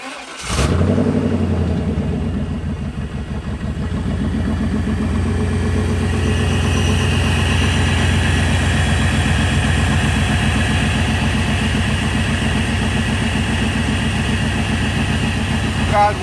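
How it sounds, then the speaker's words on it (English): A 1996 GMC Yukon truck cold-starts with a sharp crank, then settles into a steady, fairly loud idle that continues without change. "I'm gonna give you a little cold start of the truck and how it sounds"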